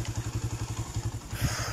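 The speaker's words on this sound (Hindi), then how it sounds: "तो यार फरहान भाई बाइक लेके आने लगे" A motorcycle engine idles nearby with a steady rapid thumping pulse, then revs briefly near the end before settling.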